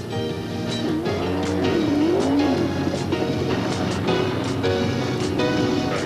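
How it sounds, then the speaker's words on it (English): Supermodified race cars roar around an oval short track, a steady dense engine drone with pitch sweeps as cars pass, heard from the stands at a distance. "Probably the fastest race cars there are on a short track."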